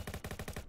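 A rapid burst of about seven loud, evenly spaced gunshots from a video game, close and alone, ending abruptly in under a second.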